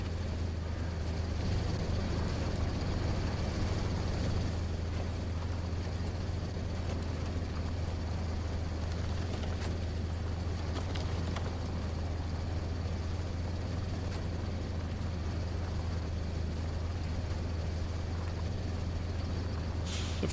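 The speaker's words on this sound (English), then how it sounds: "You can hardly hear the engine running." A truck engine in the off-road driving game SnowRunner idles with a steady, low, quiet drone that holds evenly throughout, with faint background noise and no speech.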